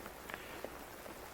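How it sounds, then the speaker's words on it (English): Faint rain patters outdoors near a hillside where sheep graze, a soft steady hiss broken by a few scattered drops, with no one talking. "It's starting to rain a little harder."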